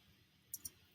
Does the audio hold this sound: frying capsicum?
no